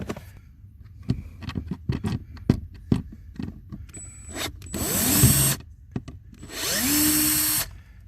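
Cordless power tool backing out T20 Torx screws on a BMW F30, with two short whirring bursts after a stretch of clicks and handling noises, close and fairly loud.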